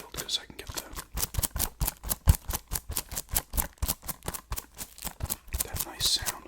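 Plastic shrink wrap on a sealed DVD case crinkles and crackles close up in a rapid, steady series of crisp bursts, sounding alone throughout.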